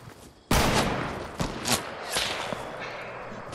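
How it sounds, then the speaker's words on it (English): Video game gunfire from a battle royale match: a sudden loud burst of rapid shots followed by several more scattered bursts of fire, close and prominent. "You're getting shot, Ty."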